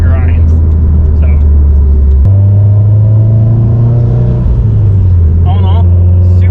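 Subaru STI engine accelerating while driving, a loud steady low drone rising slightly in pitch after a shift, heard from inside the car with brief chirps and faint background noise.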